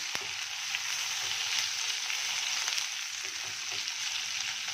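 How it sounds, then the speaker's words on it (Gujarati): Capsicum frying over a high gas flame gives off a dense, steady sizzle that stays loud and close throughout, with a few faint clicks of stirring and no talking. "હવે આપણે નાખીશું મરચાં. એને હવે ફાસ્ટ ગેસે પકાવી લેશું"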